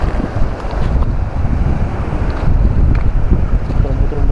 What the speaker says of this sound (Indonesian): ombaknya nih ngeri kali memang.